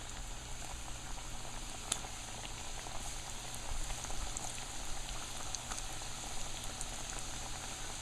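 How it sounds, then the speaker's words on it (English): Pieces of mithai dough fry in hot oil with a steady, soft sizzle and faint scattered pops, heard close and alone for several seconds. "the oil is ready and I'm gonna put in this for frying"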